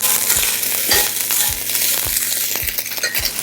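Cooked basmati rice being stirred into a sizzling tempering for sesame rice, a steady frying hiss with repeated sharp scrapes of the spoon against the pan, close and loud.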